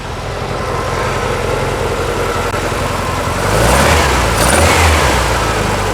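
A Porsche 356 Speedster replica built on a VW kit, its engine running steadily close by, the idle swelling slightly louder toward the end.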